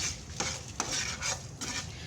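Dry red chillies go into a hot oil tempering for a bottle gourd curry, giving a steady close sizzle with a few soft stirring scrapes and light utensil clinks through it.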